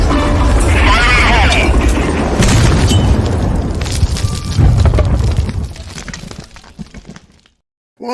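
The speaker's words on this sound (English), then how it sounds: "that grenade toss looked a little bit like, I don't know, SHTF coming to Chicago" A grenade blast erupts in a loud, sustained roar of booming and crackling debris that slowly fades out, with voices mixed into the noise.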